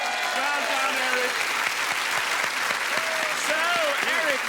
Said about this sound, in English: Give Eric a big cheer.